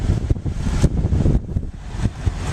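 Air conditioning fan in a 2007 Chevy Avalanche blowing a steady, close airy rush that fills the cabin, with slight surges in strength and no talking over it.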